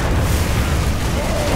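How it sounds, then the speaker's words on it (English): Upgraded siege tanks firing artillery against a Thor in StarCraft II, a continuous heavy low rumble of booming shots and explosions, loud and dense with no clear gaps. "Thor versus upgraded siege tanks. I think upgraded siege tanks are gonna win."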